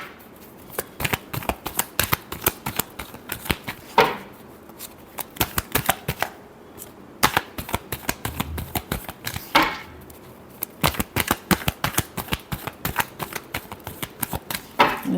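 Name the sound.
shuffling tarot cards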